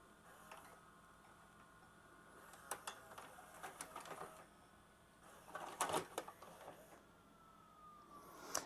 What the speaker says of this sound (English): And then let's hit eject.